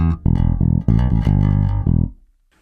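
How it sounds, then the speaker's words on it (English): A Warwick 5-string bass played through both pickups with the EQ flat plucks a short run of deep, round notes up close, then the last note decays into silence. "So this is my main bass, my Warwick 5-string."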